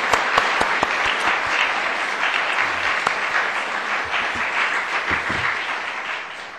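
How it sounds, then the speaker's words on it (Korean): A Baptist church congregation breaks into sustained applause, a dense, even wash of many hands clapping that fills the hall and slowly tapers off. "우리 박수 한번 하십시다"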